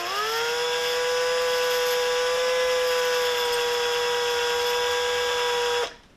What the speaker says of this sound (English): you take the file and you got your little piece stuck in the drill